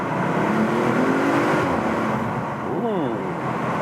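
A 2.9-liter V6 bi-turbo engine in an Audi RS5 Sportback with Quattro all-wheel drive, heard from inside the cabin at speed as a broad steady roar with rising gear-shift sweeps, under a voice.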